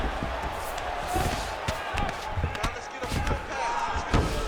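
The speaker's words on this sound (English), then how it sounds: "big pop from the crowd as they get back to their feet" Arena crowd in a fighting video game roars and swells as the grapplers get back to their feet, broad cheering noise with thumping impacts and a commentator's voice running over it.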